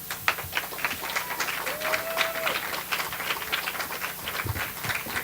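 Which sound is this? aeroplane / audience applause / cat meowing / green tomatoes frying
audience applause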